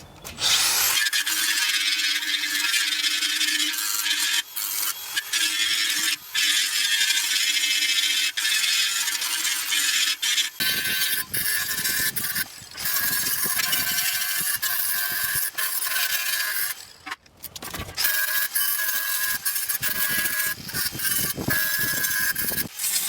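Grinding on metal parts of a mini toy hauler trailer, a loud harsh rasping whine with shifting pitch, running in long bursts with brief pauses and changes in contact.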